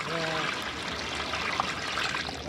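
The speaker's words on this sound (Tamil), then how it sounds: "அரிசிக்கு மேலே இப்படி தண்ணி ஊற்றணும்." Water poured over rice in a large cooking pot for a feast, a steady close trickling stream lasting throughout, with a brief voice at the start.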